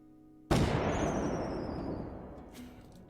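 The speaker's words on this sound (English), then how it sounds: "the firework whistle makes me chuckle whenever I hear it" Firework sound effect for a game in development: a sudden loud bang, then a descending whistle trailing off over a long fading rumble, with a fainter pop near the end.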